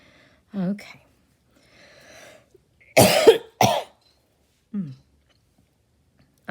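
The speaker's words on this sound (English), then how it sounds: "I'm sorry, guys, that I'm coughing." A person coughs twice in quick succession, two sharp, close bursts with faint throat and breathing sounds around them in an otherwise quiet room.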